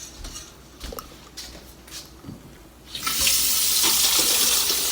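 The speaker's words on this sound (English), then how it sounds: "we pour the coffee in." Coffee pours steadily into a cup of frothed milk with a broad splashing hiss that starts after a few soft clinks and rustles, then continues loudly to the end.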